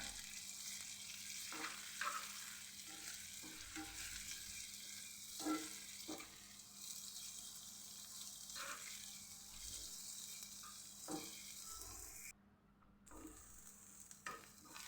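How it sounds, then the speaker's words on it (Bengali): Onion and garlic fry in ghee in a pan, a soft, steady sizzle broken by occasional spatula stirs and scrapes, fairly quiet and without any talk. "একসাথে আমি পেঁয়াজ আর রসুনটাকে ভেজে নিব। ঘিয়ে ভেজে নিলে খেতে বেশ ভালো লাগবে,"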